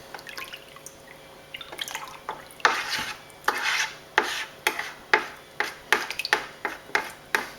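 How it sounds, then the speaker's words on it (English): A utensil stirs yeast into Ribena wine in a container, making a run of soft, close scraping and splashing strokes that quicken into a steady rhythm of about a dozen quiet swirls. "So that's the yeast in there, and I'll put the lid on now. I might give it a quick stir"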